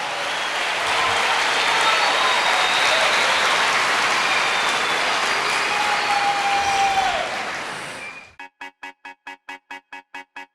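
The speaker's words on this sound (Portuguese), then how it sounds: "Dê para Jesus uma forte salva de palmas." Church congregation gives strong, sustained applause, a dense loud wash of clapping with a brief whistle, then it cuts off abruptly into a short repeating electronic jingle.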